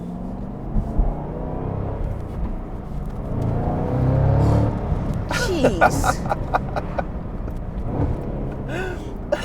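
Cadillac CT5-V Blackwing V8 exhaust note from inside the car, a loud steady rumble swelling as the engine revs, with sharp pops and crackles partway through; a voice briefly exclaims.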